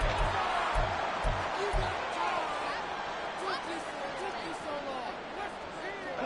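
A large stadium crowd at an NFL football game roars steadily throughout, a dense wall of cheering and shouting with scattered whistles rising above it.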